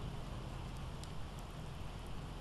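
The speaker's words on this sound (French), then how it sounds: "Je rentre au refuge quand même, histoire d'éviter la pluie." Steady rain falls in the video game Project Zomboid, an even, dense hiss that holds through the whole short stretch with no talking.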